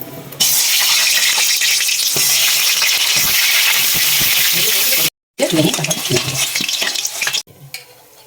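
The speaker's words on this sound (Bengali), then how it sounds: "আলুটা ভেজে নি।" Potatoes frying for a mutton curry, a steady loud sizzle running for several seconds with occasional stirring scrapes and clinks, briefly cut off near the end, then resuming before fading.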